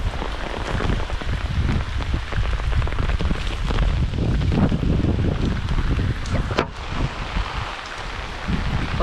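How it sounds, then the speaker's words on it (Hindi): Rain pours steadily onto surfaces outdoors, a dense close hiss that swells heavier and eases off slightly, with occasional gusts of wind buffeting the microphone and no voices. "अभी थोड़ी देर तेज़ होती है, वापस थोड़ी सी धीरे हो जाती है,"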